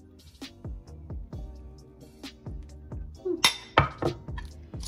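A utensil mixes egg into a salmon cake mixture in a bowl, giving a quiet series of close clinks and knocks that grow brisker and louder toward the end.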